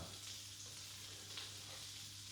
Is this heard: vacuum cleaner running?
no